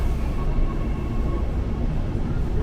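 An airport rail link train pulls out of Duri station, a steady low rumble and rolling drone that stays loud and close throughout, with no voices over it.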